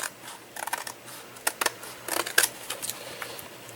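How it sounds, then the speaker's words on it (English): Scissors trimming a scrap of paper close up, a quick run of crisp snipping clicks in irregular bursts. "And then I'm going to trim it off."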